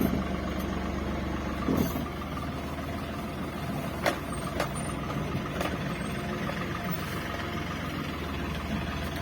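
A heavily overloaded truck idles with a steady low engine rumble while reversing, with a few faint, brief beeps and clunks over the engine noise in a forest setting.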